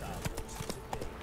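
Roach, the horse in The Witcher 3, trots along in a short run of quick, faint hoof clip-clops, with a voice talking over them.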